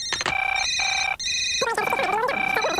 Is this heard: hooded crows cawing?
no